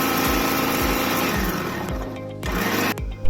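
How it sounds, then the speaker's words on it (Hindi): An electric grinder whirs steadily while grinding green chillies, a loud continuous motor drone with a few rhythmic low thumps and a brief pause near the end. "हरी मिर्चें ग्राइंड हो चुकी हैं"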